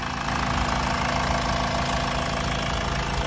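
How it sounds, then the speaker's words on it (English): A Honda CR-V engine idles under an open bonnet, a steady close-up hum with an even, slightly knocking pulse that holds constant and loud throughout, with no talking. "just panning on the engine so you can hear and see that everything's all in order"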